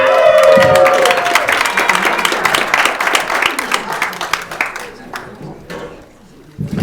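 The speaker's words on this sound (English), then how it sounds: "Please give it up for the one and only Bear Love" A comedy club audience at Gnarly's in Golden, Colorado, claps and cheers loudly for a comedian being introduced, dense applause that thins into scattered claps and fades out toward the end.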